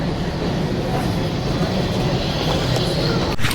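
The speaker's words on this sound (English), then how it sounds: "Now we're taking a train to a hotel." Steady, loud rumble of a train in motion carrying travelers to a hotel in Vienna, a dense continuous rolling roar with a brief clunk near the end.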